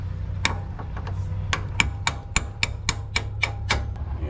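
A hammer taps metal parts of an Ultra-Jet 340HTS marine jet pump during a 1,000-hour service, about a dozen sharp, fairly even strikes at close range over a steady low hum.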